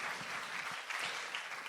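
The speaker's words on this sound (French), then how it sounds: "On peut applaudir." Audience applause during a school presentation, a faint, steady patter of many hands clapping at a distance, alone with no clear voices.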